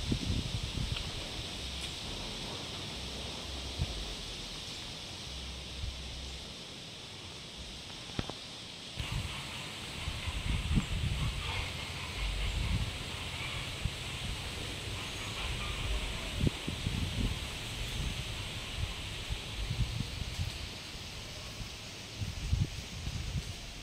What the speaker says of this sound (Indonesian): Anginnya gede banget. Tuh. Ranting-ranting pada berjatuhan.